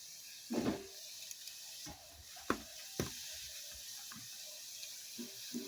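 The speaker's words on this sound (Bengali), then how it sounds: "সবগুলো আমি তেলের ওপর এইভাবে দিয়ে দিচ্ছি" Sesame balls dropped one by one into hot oil give a soft, faint sizzle with occasional bubbling pops and light clinks up close.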